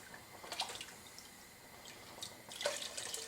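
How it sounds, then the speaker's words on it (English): Water swirled around in a container to dissolve saltpeter for brine, giving two short bursts of splashing and sloshing with a quiet pause between, close and fairly soft. "I just fill it up with a bit of water, just swirl it around and let it begin to melt"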